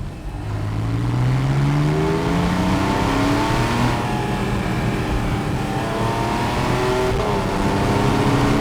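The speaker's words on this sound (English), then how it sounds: "switch on sports exhaust" Porsche 911 997.2 Targa 4S with sports exhaust switched on, its flat-six engine pulling hard through rising gear sweeps, a loud, close, continuous roar climbing in pitch with brief dips at upshifts.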